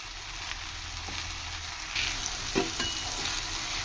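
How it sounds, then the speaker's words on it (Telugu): Gongura leaves being stirred as they fry in a pan over medium flame for Andhra-style chutney, a continuous soft sizzle with scraping spoon strokes near the end, no voices. "ఈ విధంగా కింద నుంచి ఒకసారి ఈ విధంగా తిప్పుకుంటూ కలుపుకోండి"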